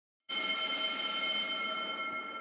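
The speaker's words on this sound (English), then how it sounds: "Oh wait, the school bell's ringing." A school bell rings in one steady, loud electronic tone that starts abruptly and holds without a break, heard alone.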